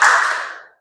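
A short burst of hand clapping from a group playing a clapping ice-breaking game, loud and close, with a quick decaying tail and no talking.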